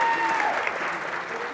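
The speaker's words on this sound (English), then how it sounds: "Is everybody clapping?" A television studio audience applauds steadily, a close, even wash of clapping filling the whole short moment, with a faint voice beneath it.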